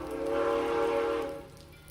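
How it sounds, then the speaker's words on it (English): A train passes on a UK airport rail link, its horn sounding as a steady sustained tone over a rumbling roll that swells and then fades away toward the end, with no voices. "you can see the picture and the sounds of the train underneath it"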